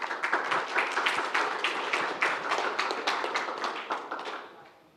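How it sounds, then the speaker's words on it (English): Audience clapping for speakers Feilong Wang and Andrew from Catalyst Cloud at the LCA 2020 conference, a dense burst of many hands close by that keeps up for several seconds and then fades away. "Give them a big round of applause."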